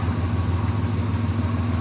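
A loud truck engine idles steadily in the background, a continuous low rumble with no break over the short stretch.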